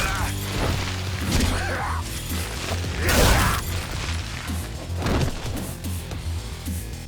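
Yakuza 0 heat action brawl in which an enemy's teeth are smashed out, with several heavy thuds, crunches and mechanical clatters spread over a few seconds, a loud crash near the middle, and talking throughout.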